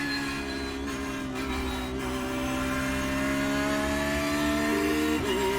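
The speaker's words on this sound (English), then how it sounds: "It's a bit of a generic sound for each car, and I think the audio really could be improved in iRacing." A race car engine in the iRacing sim game drones loud and steady, its tone climbing slowly as the revs build over a few seconds, with no talking.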